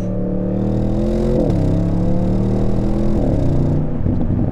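A 2024 Audi RS6 Performance Avant engine revs up and drops through downshifts, a loud, close, continuous roar with rising and falling pitch sweeps as gears change.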